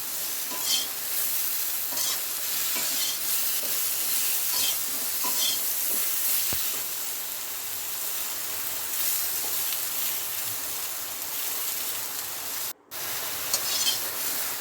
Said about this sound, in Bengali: এইভাবে হালকা ভেজে নেবেন